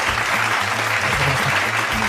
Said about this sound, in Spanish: Vamos a darle un fuerte aplauso para recibirlo como se merece.